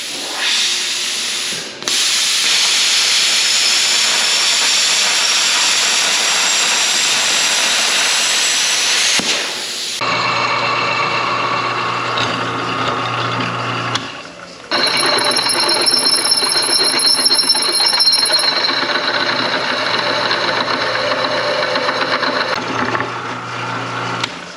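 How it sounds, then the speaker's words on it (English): Metal is cut for the motor mount of a 1930 custom pickup with a diesel engine swap, a loud, harsh abrasive grinding that runs in long continuous passes, broken by a brief stop and then changing tone as the cutting resumes. "We just got to cut some metal."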